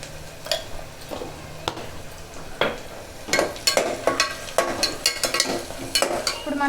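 Onions and green chillies fry in a pan with a soft sizzle, broken by repeated scraping and tapping as a utensil stirs them against the pan.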